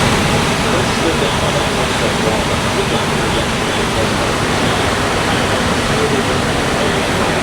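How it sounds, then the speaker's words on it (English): Turbo Chevrolet Silverado truck held in fourth gear on a chassis dyno, giving a dense, constant roar that stays loud and even throughout with no pauses. "This one is fourth gear right here."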